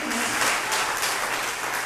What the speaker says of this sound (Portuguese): Quem pode aplaudir a Deus por essa notícia?